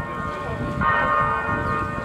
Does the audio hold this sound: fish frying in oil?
no